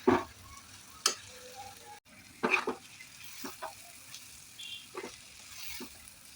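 Bitter gourd pieces frying in a pan give a soft, low sizzle broken by intermittent scraping stirs and clinks, with no talk.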